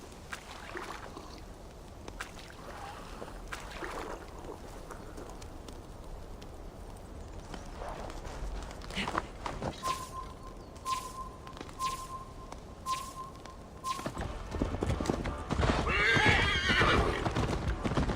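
Horses gallop with steady clip-clop hoofbeats in the Viking-era video game Assassin's Creed Valhalla, joined by a whinny and a sustained tone, building louder toward the end.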